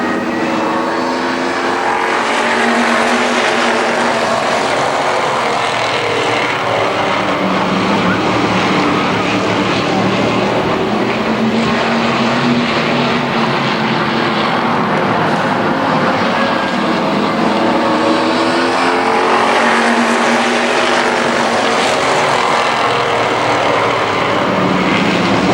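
Race cars roar around Columbus Motor Speedway in a side-by-side battle, a dense, continuous loud engine drone filling the whole stretch with swelling passes, under crowd and PA ambience.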